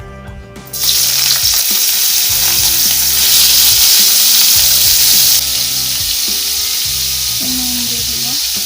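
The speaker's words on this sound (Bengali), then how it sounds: "আমি পাতাটা ভেজে নিচ্ছি, দেখতেই পারছো" Neem leaves and potatoes fry in hot oil with a loud, constant close-up sizzle that starts abruptly and keeps hissing steadily throughout.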